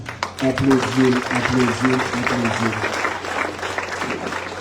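Audience applause at a school centenary ceremony honoring a former teachers' representative, a steady broadband clatter of clapping lasting several seconds while a voice talks over the first part.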